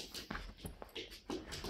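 A small puppy whimpers and yips in several short, high-pitched bursts, close and fairly quiet, with no talking over it.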